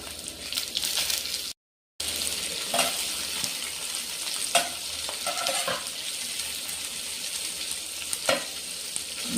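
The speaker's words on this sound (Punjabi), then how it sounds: "ਪਿਆਜ਼ ਆਪਣਾ ਭੁੱਜ ਰਿਹਾ" Coarsely chopped onions sizzle steadily in a pan for a halwa kaddu (pumpkin) sabzi, with occasional spatula scrapes and clinks breaking through, and a brief dropout of total silence near the start.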